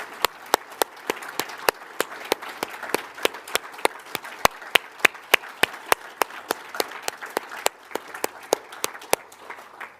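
Audience applause for the nominees standing up at the 2023 Tasmania Australian of the Year Awards, steady clapping with sharp individual claps sounding close, sustained for the whole stretch.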